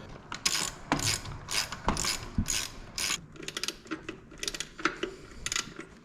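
A ratchet tightens bolts and a nut near the EGR on a valve cover of a second-generation 4Runner. Close, rapid clicking bursts come in uneven runs with short pauses between strokes.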